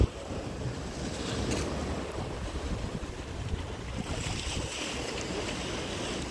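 Sea waves wash onto a sandy beach in a continuous surging rush, with wind buffeting the microphone throughout and no one speaking.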